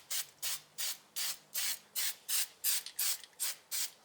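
Fluid Film anti-corrosive sprays in quick, even hissing bursts onto brake parts of a 2006 Buick Lucerne, about a dozen short spurts in a steady rhythm, close and fairly quiet.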